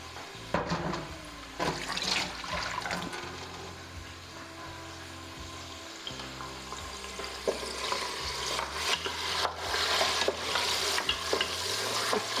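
Mutton, 300 grams, fries in a cup of oil for shaljam gosht while being stirred, a steady close sizzle broken by repeated scraping strokes and clanks across the whole stretch, with no talk.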